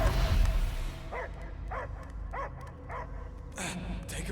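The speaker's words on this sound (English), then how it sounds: "I hear only barking." A dog in the Guardians of the Galaxy video game gives a series of about six sharp barks and yips at a steady pace, mid-distance, after a low rumble at the start.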